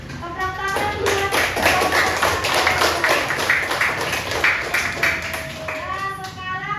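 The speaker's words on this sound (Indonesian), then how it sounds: "Tepuk tangan buat" A group audience in a classroom-style setting claps steadily for a presenting group, continuous brisk hand clapping throughout with children's voices and chatter mixed in.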